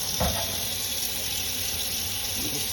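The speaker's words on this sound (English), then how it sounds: "I'm just emptying the excess water out." Excess water pours out steadily into a sink, a continuous close splashing rush with a brief heavier gush at the start, no voices.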